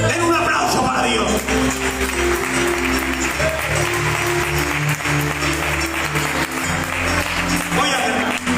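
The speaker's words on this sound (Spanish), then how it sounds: "Den un aplauso para Dios" A church congregation gives sustained applause, a dense wash of clapping that holds steady for several seconds, with music or voices faintly underneath.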